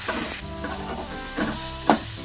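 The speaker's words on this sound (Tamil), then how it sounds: "தக்காளி போட்டுக்கலாம். கொத்தமல்லி தழை ஒரு கைப்பிடி போட்டுக்கலாம். தக்காளி வதங்கட்டும்." Chopped tomatoes and a handful of coriander leaves frying in a pan for pepper prawn fry, a continuous near sizzle broken by several stirring scrapes and one sharp clack of the spatula against the pan.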